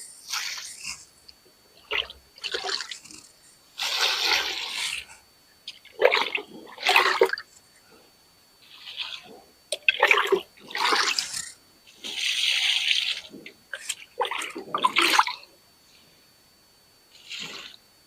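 Water mixed with fertilizer is poured onto flowering plants in short, separate splashing bursts with quiet pauses between them, close by and fairly soft, with no talking.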